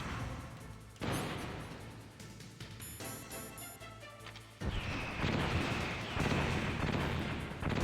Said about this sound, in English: Then you just got to dodge the laser and the machine guns.